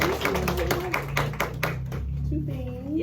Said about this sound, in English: And so we just want to applaud Aja.